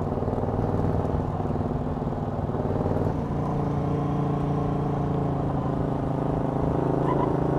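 A Morgan 3 Wheeler with roughly 80 horsepower pulls hard on a race track, its engine droning steadily and loudly close by, the pitch shifting partway through as it accelerates.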